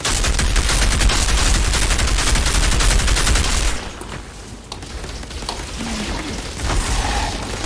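Gunfire in the video game Outriders: loud, continuous rapid automatic shooting for several seconds, then a quieter stretch with scattered shots and game effects.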